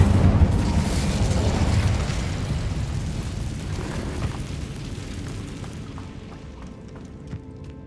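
Incendio fire spell cast in Hogwarts Legacy during a catacomb level, a loud roaring burst of flame that swells at once and then slowly fades and thins, with faint crackles near the end.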